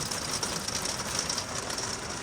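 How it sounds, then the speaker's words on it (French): Hail pelting down during a road trip in Switzerland, a dense continuous patter striking surfaces all around, steady and fairly faint, with no voices. "On a de la grêle."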